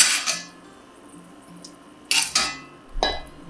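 A metal spoon scoops cooked ground beef out of a pot, giving three separate scraping clanks against the pot with short quiet gaps between them.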